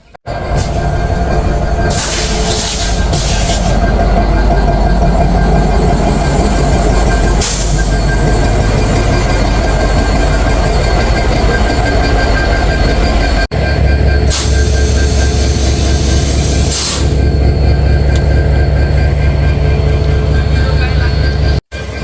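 A Chilahati Express passenger train from Chilahati to Dhaka rolls along with a loud, steady rumble and clatter of wheels, with brief squeals and bursts of noise throughout.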